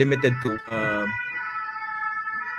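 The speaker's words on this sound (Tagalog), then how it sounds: "ambulansya" An ambulance siren sounds as a steady, sustained tone, rising in clearly after a brief burst of speech and holding at moderate loudness to the end.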